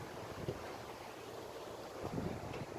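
Wind blows steadily past a microphone on a windy day near a cornfield, a low gusty rush with buffeting thumps, faint overall and without talk.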